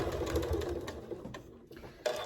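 A Janome sewing machine with a purple 90/14 needle stitches slowly through thick fabric pleats, a close mechanical whirring that chatters along steadily, dips briefly, then picks up again.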